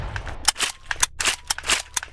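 A Marlin lever-action rifle fires in the VR game Bonelab, several sharp shots in quick succession with cracks and mechanical clacks between them, loud and close.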